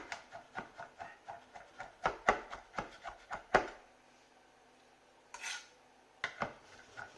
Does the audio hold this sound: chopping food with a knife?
yes